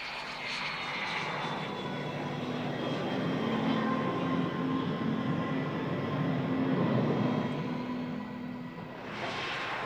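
A Spanish Air Force Dassault Mirage F1 fighter jet from the 142nd Air Defense Squadron flying at the RAF Fairford air show, a loud continuous engine roar holding steady across the clip without talking.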